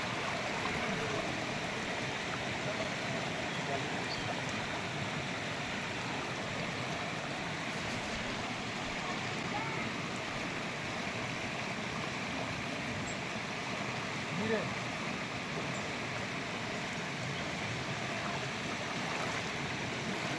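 A fast-flowing monsoon river that children must cross to reach school, rushing as a steady broadband roar of water, constant and moderately distant, with no voices.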